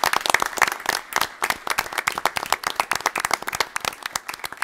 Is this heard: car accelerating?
no